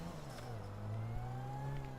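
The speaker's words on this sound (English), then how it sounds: "And I'm just gonna drive the car into the water." A car engine hums steadily in GTA 5, its tone rising and settling as the vehicle drives toward the water, fairly close and moderate in level, with no speech heard.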